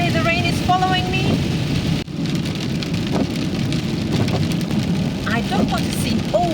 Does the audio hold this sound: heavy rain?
yes